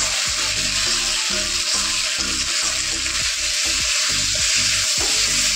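Water poured onto sautéed spices in a pan sets off a loud, continuous sizzle. Low rhythmic stirring thuds repeat throughout, with no one speaking.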